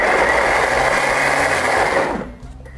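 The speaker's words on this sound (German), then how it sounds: "Ich würde hier nicht so glatt pürieren" Blender pureeing a spicy chili-tomato dip, a loud close high-pitched whirring motor that runs steadily for about two seconds, then winds down and stops.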